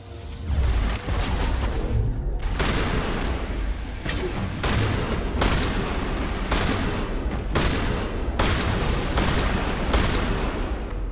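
Dense, loud sustained gunfire fills a Mass Effect Legendary Edition firefight inside a research lab, rapid shots and bursts stacking continuously with booming impacts for the full duration and no clear talk.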